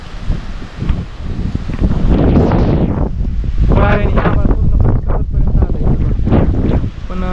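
Strong storm wind roars and buffets a close microphone outdoors, heavy low rumbling gusts filling the whole stretch, with a voice speaking faintly underneath.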